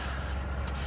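A cloth rubbing briskly over a new brake disc for a 2015 Ford Fiesta Mk7, wiping off its factory protective film; a close, steady scrubbing swish, brief and uninterrupted.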